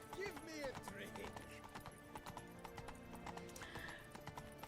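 Roach, a horse in The Witcher 3, gallops with rapid rhythmic hoofbeats under a steady game score. A short whinny comes near the start, and a voice talks over the hooves.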